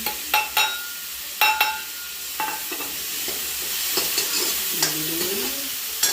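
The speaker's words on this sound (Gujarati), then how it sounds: "સાંતળાઈ જાય પછી એના અંદર નાખવાની લીલી ડુંગળી." Spring onions go into masala sautéing in a pan for Gujarati kadhi, giving a continuous oil sizzle with scraping spoon strokes and a few sharp clinks against the pan, close and clear.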